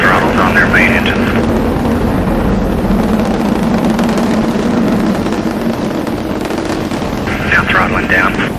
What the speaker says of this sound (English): We have liftoff of Challenger in Space Lab 2